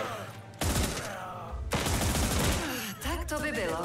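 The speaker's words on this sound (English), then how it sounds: "Double machine gun." Double machine gun fire in the Last Train Home video game: loud, sustained rattling bursts that cut in and out, overlapping with speech.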